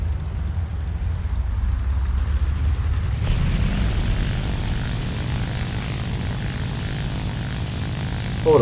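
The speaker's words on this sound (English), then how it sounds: "This plane could climb pretty well." A propeller-driven fighter plane in War Thunder drones with a steady, rumbling engine roar that swells slightly as it climbs, continuous and fairly close, with no speech.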